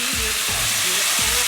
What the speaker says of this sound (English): now that we've got our shrimp perfectly sauteed